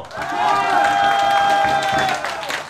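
Crowd applause and cheering at a pumba folk performance during the Yecheon World Bow Festival, clapping mixed with a sustained voice or tone over the din, swelling then fading near the end.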